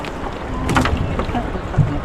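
A small boat moving on choppy water in a typhoon, with wind buffeting and splashing throughout, and occasional shouted voices nearby.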